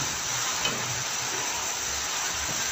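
Red and green chillies fry while being stirred in a pan, producing a steady, even hiss with faint low scraping underneath and no voices.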